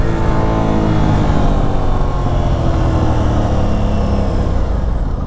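An Aprilia RS660 motorcycle engine roars steadily and loud at close range, a continuous dense drone with no speech over it.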